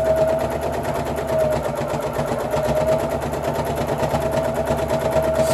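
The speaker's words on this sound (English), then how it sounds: "machine's a little noisier this time around because I'm in spots actually catching 4 layers of fleece" A domestic sewing machine stitches through four layers of fleece while sewing cloth pads, a loud, fast, steady mechanical chatter running close and unbroken with no talking.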